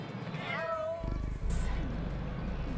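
A cat meows clearly once, a rising then falling call up close, before a noisy stretch of room sound and movement in a drama scene.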